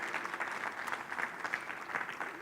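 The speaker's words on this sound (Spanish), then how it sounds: "les damos un aplauso a toda nuestra familia de otras ciudades" A church congregation applauds with dense, continuous clapping that sounds somewhat distant and fairly soft, with no clear voices on top.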